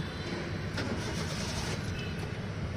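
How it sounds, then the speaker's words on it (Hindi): A Hyundai Eon car's engine starting and running on, a steady broadband rumble that stays loud and continuous, with no talk over it. "गाड़ी स्टार्ट कर दिया मैं।"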